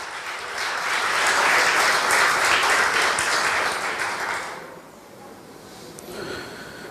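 Church congregation applauding during a Portuguese-language sermon, a broad sustained burst of clapping that swells and then fades out over several seconds.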